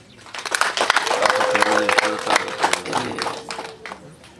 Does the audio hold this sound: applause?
yes